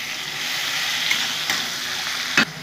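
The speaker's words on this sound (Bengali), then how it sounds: "আমি এখন পেঁয়াজ বাটা দিয়েও কষে নেব" Onion paste frying in oil for a mutton curry, a steady close sizzle with a few light stirring knocks and a brief louder scrape near the end.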